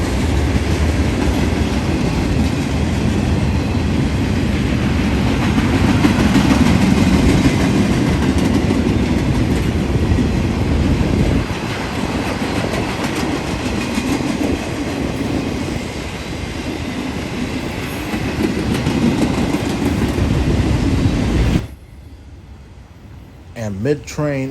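A Norfolk Southern freight train led by a rebuilt AC44C6M locomotive rolls past, with a steady rumble and clickety-clack of wagons and a faint squeal before the sound cuts off sharply near the end.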